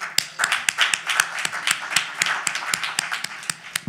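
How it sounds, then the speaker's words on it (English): An audience in a Harlem auditorium at a Saturday rally claps in a fairly even rhythm, with crisp, close hand claps running the whole time. "Give yourself a round of applause"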